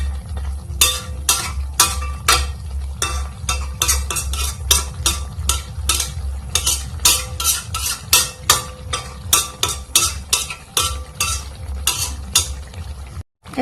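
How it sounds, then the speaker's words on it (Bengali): Fish being stirred into spice paste in a pan for a Bengali fish curry, with rapid steady scraping and clinking strokes of a spoon against the pan over a low frying sizzle, loud and close, with no talk. "মাছটা দিয়ে একটু নেড়ে ছেড়ে নিয়ে নেব"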